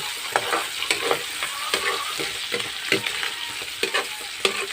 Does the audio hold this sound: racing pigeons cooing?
no